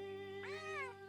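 A single drawn-out cat meow in the video game Pentiment rises and falls in pitch. It sounds clear and close over a steady tonal background hum.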